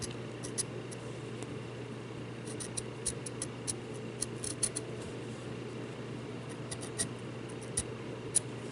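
Scissors snip through cardstock during card-making, giving quiet, irregular clicks and crisp cuts in small clusters over a low, steady room hum.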